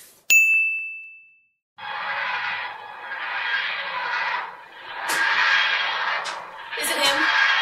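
A single bright phone notification ding rings out clearly, followed after a brief pause by people talking.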